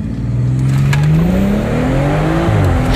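A tuned BMW 440i with a downpipe accelerates hard from a standstill, its engine note climbing loudly and steadily through the revs with a brief dip at a gear change, close and continuous.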